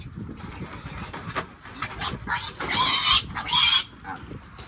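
Young piglets out on pasture on a smallholding, grunting and squealing in short bursts close by, building to a couple of louder squeals near the end over quiet outdoor background.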